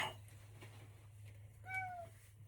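A house cat gives a single clear meow near the end of a quiet indoor moment, with a low steady hum underneath and faint soft sounds before it.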